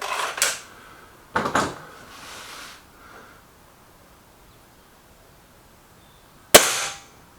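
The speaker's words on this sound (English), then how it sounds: "that's the 5 shots from the Excite pellet" An air rifle fires .22 Excite pellets: three sharp, close cracks spaced several seconds apart, each followed by a brief rattle or thud, in an otherwise quiet setting.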